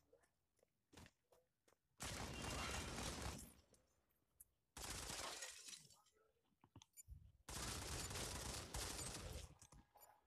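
Gunfire in the mobile shooter Modern Combat 5, three long loud bursts of continuous automatic fire separated by short gaps with scattered single shots and clatter.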